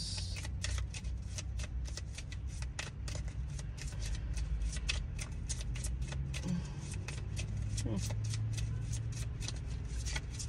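Tarot cards shuffled by hand, a steady run of quick papery riffles and flicks close up, with a low background hum underneath and no talking.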